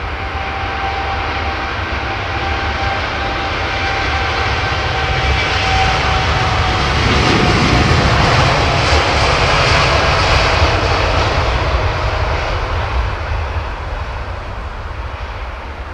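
Jet airliner engines roar loudly and continuously at London Heathrow Airport, swelling to a peak midway with a steady whine on top, then easing slightly; no voices.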